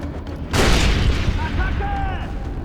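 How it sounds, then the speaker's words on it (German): A grenade going off in a tropical island shooter game, a sudden loud boom that rolls into a rumbling tail while a voice shouts over the aftermath. "Granate unterwegs!"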